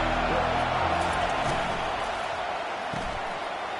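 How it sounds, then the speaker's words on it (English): At a college football game, the stadium crowd gives off a dense, continuous roar that stays loud and even throughout, with a few faint thumps and shouts mixed into the wash of noise. "This crowd bringing the energy and noise early."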